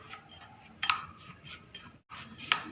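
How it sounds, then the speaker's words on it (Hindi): A spoon mixes crushed biscuits with butter in a bowl: quiet, close scraping and soft knocks, with two sharper clinks against the bowl. "बटर डाल के इसे अच्छी तरह मिक्स कर लेना है।"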